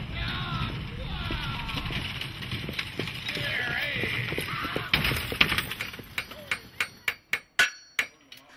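Blacksmith's hammer at a pioneer history center in Yosemite National Park, a series of sharp, evenly spaced metallic strikes ringing out near the end after a stretch of background voices and music.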